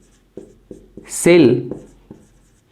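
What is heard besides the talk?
writing a definition on a board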